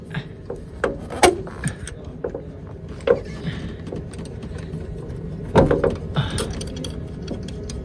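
A wrench bolts a KSport racing coilover onto a Nissan Skyline R33, giving scattered metallic clicks and ratchet-like ticks at irregular intervals over a low garage hum, with occasional sharper knocks.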